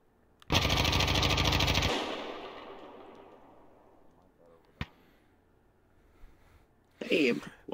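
A loud burst of rapid automatic gunfire in a shooter video game lasts over a second and decays into a long echo, followed by a lone sharp shot and a short crackling burst, with people talking over it.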